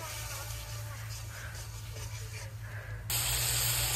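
Spice masala with coriander powder and salt fries in oil for a dried-fish curry, giving a soft, steady sizzling hiss that grows slightly louder toward the end.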